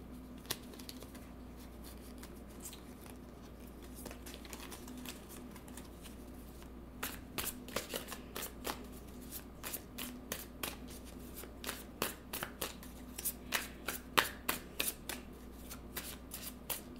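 A deck of cards being shuffled, with soft riffling in the first half giving way to a run of sharper, evenly spaced card snaps and flicks, close and moderately quiet over a steady low background hum.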